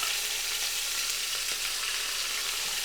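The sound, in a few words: beef rouladen searing in hot oil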